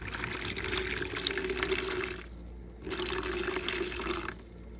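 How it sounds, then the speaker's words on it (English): Warm water runs from a kitchen tap for sourdough bagel dough, a steady close rush that breaks off briefly midway and then resumes, with no talking. "For the bagels, we are going to add 250 grams of water, warm preferably."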